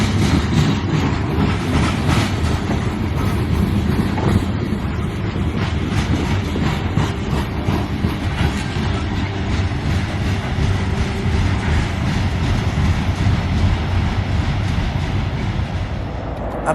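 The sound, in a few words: freight train passing on tracks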